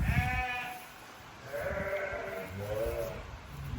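A big, strong newborn lamb bleats in several wavering calls close by, with short gaps between cries and a low rumble of background noise underneath.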